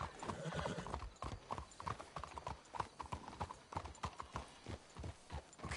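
Horses gallop in Red Dead Redemption, a dense, steady stream of hoofbeats drumming close and loud for several seconds, with a faint whinny mixed into the pounding rhythm.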